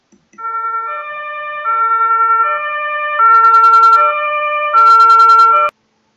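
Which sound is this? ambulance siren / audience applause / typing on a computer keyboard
ambulance siren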